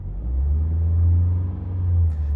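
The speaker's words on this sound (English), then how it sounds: "give the car a quick rev" A 2019 Mitsubishi ASX ES idles with a deep rumble, then its engine is given a brief rev that swells and settles, close and alone.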